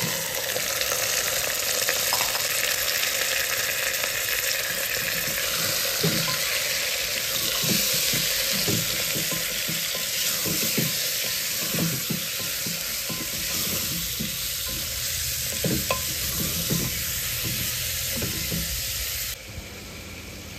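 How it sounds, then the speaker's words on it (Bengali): Meat sizzles loudly in a hot pan after being added to fried onion and garlic, a dense continuous frying hiss broken by repeated scraping stirs, then a slight drop at the very end. "মাংস দিয়ে নাড়াচাড়া করে নিয়েছি"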